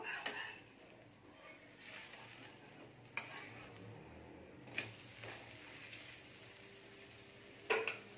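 Mung dal pesarattu dosa, an Andhra lentil crepe, cooks crisp on a pan with a steady soft sizzle and frying hiss, broken by a few sharp scrapes and taps of a spatula, close and otherwise without talk.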